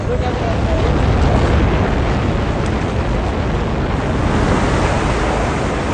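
The Old Faithful geyser in Yellowstone erupts, ejecting simmering water in a loud, steady roaring rush of spray and wind-buffeted noise that holds throughout.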